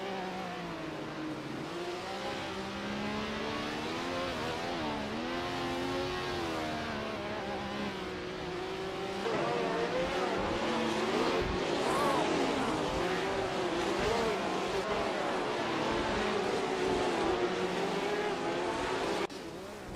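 In a racing video game, a 1967 Brabham BT24 and rival race cars roar around a track, their engines whining and revving steadily as they shift up and down through the gears.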